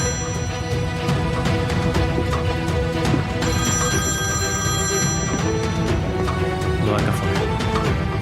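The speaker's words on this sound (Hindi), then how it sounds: "दुआ का फोन" A telephone bell rings loudly and continuously in repeated bursts for several seconds, alone with no talk over it.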